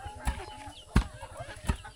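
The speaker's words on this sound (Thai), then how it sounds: "เป็ดไก่สบายกินอยู่นี่เลยไก่ตุ้ยพี่ดีงามเลยไก่ในชนบท" Chickens clucking around a small roadside village in the countryside, a few short clucks spaced out over steady low rural background noise.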